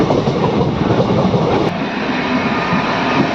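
A Mumbai local commuter train rumbles along steadily, with dense broadband roar and faint rhythmic clatter of wheels on rails throughout, close and loud.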